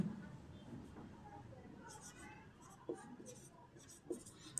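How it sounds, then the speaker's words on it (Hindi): A teacher writes on a board during a Class 10 maths lesson on quadratic polynomials, making faint scratchy strokes and a few soft taps in a quiet room. "यहाँ हम लिख देंगे"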